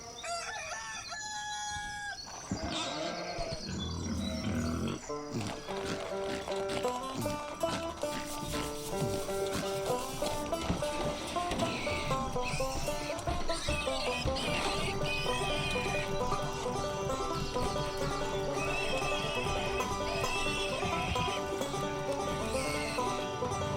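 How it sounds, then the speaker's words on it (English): Horses neigh and hooves clip-clop in the Lego City Undercover video game, with rooster crows and other farm animal calls over a busy music and effects bed. "Then we take horses to the farm"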